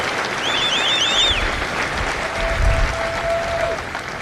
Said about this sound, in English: please join me in a well-deserved round of applause for the drill instructors and families of